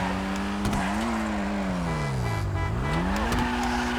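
A Dinka Blista Kanjo in GTA Online slides around, its engine droning steadily while the pitch sags and climbs again with the throttle, and a light tire squeal rides along underneath.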